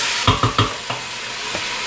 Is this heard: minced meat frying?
yes